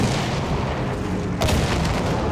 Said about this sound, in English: let's go back to blowing stuff up